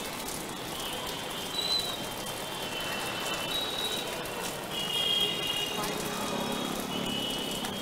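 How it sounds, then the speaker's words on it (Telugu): Heavy rain falls across Hyderabad, a dense, steady hiss of drops on surfaces that holds through the whole stretch, with a faint voice beneath it. "హైదరాబాద్ వ్యాప్తంగా కూడా అన్ని ప్రాంతాల్లో వర్షం కురుస్తున్న పరిస్థితి"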